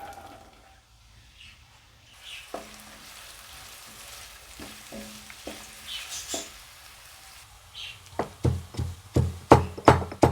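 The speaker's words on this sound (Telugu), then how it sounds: "ఆయిల్ హీట్ అయ్యాక కట్ చేసుకున్న ఆనియన్ గ్రీన్ చిల్లీ వేసుకోవాలి" Chopped onion and green chilli for a masala curry hit hot oil in a pan, starting as a faint sizzle that builds into louder crackling bursts and sharp pops near the end, with no voices.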